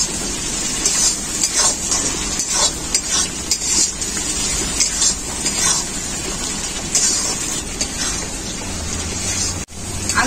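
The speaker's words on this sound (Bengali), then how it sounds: "আলুটা মশলার সাথে খুব ভালো করে কষিয়ে নেব।" Fried potatoes are stirred through spice paste in a pan, giving a busy, close mix of sizzling, scraping and clattering that runs throughout with one brief break near the end, and no voices.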